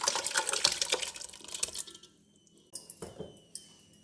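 Water poured from a steel tumbler into a pressure cooker while making mutton biryani, a steady close splashing pour for about two seconds, then quieter drips and a few small clinks.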